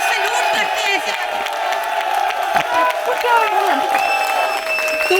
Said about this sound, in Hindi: मैं भी तालियां बजाऊंगी